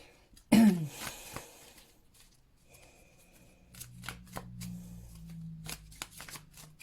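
Tarot cards are shuffled by hand: one sharp riffle burst at the start, then a run of quieter flicks and card slaps close by, with no talking.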